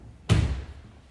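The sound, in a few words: heavy large sliding doors being moved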